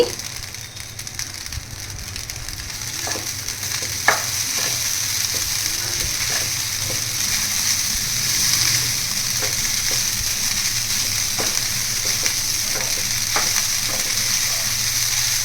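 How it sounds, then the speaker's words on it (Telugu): Steady sizzling in a pan as idly upma with salt and chopped coriander is stirred, with a constant frying hiss and scattered scraping clicks of the spoon, no talk. "ఇప్పుడు కొంచెం సాల్ట్ కొత్తిమీర వేసి బాగా కలపాలి"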